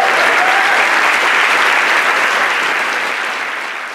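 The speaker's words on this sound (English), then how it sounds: "applause" Loud, dense applause from a large crowd, sustained and slowly tapering toward the end.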